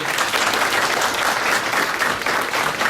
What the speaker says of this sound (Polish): należą się Panu Wojewodzie oklaski